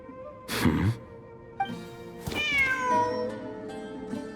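A cat in the game Secrets beneath the Sand meows several times at close range, its drawn-out cries rising and falling with short pauses between them.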